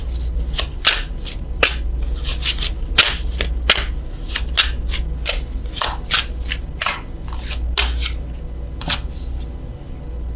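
Oracle cards from a French vintage stamp love deck are shuffled steadily, crisp rapid riffles and slaps close to the microphone over a low background hum, with no talking.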